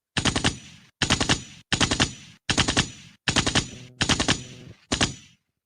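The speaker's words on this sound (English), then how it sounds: "Let me give you the gunshot." Seven rapid bursts of gunshot sound effect fire in a steady rhythm, each a loud, sharp volley with a short decaying tail, separated by brief silences and playing alone without talk.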